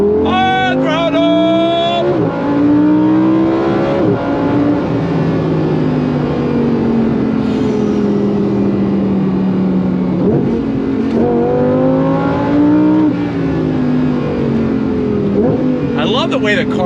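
A 2024 Lamborghini Huracan Sterrato V10 accelerates hard on throttle, the engine note climbing through repeated upshifts in rising sweeps, loud and close, with people talking and exclaiming over it.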